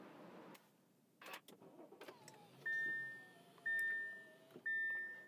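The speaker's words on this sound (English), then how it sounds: "Let's go ahead and start the car." A 2013 Audi A6 starts up: a short burst of engine cranking, followed by three evenly spaced warning chimes over a low idle, recorded close inside the car.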